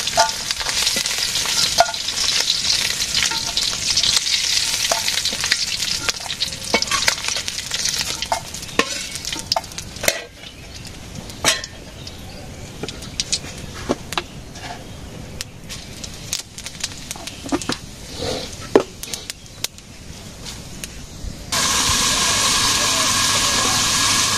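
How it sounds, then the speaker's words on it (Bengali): Vegetables sauté in a pan with a steady sizzling hiss, broken by scraping stir strokes and clinks, ending in a louder burst of sizzle. "সবজি কষানো হয়ে গেছে, এটা একটু জল দিয়ে দেবো।"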